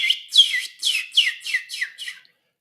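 A person imitating a mockingbird's whistling call, outdoors early in the morning: seven bright, fluttering whistled phrases in a steady rhythm, close and fairly loud, with no talk.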